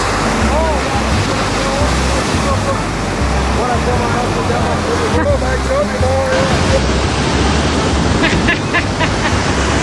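Ocean surf rolls in at Ipanema Beach in Rio de Janeiro, a loud, steady wash of breaking waves that fills the whole clip, with faint voices in the background.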